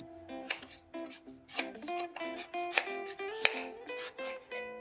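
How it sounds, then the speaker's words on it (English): A knife cutting away the hard outer skin of pumpkin portions, a series of distinct close cuts and scrapes at an uneven rhythm over soft background music. "Now cut the outer hard skin."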